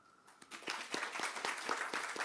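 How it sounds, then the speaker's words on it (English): An audience applauding frontline workers at a Baltimore mayoral housing announcement for seniors, clapping that starts abruptly and builds into a steady burst of many hands, fairly close. "want to give a special round of applause to those frontline workers who aren't here"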